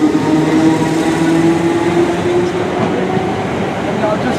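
A Class 455 electric multiple unit moving through Clapham Junction station gives a loud, steady rumble with a sustained motor hum that holds for the whole stretch and fades slightly toward the end.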